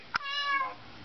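A short sharp click followed by a single high, tonal meow-like call from a cockatoo imitating a cat, close and clear.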